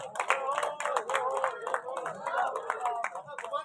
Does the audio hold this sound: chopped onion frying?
no